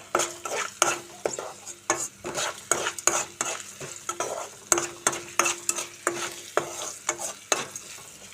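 A spoon scrapes rhythmically through sizzling oil and turmeric seasoning in a pan, ahead of cooking amaranth leaves. The stirring strokes are steady and close over a soft, continuous fry.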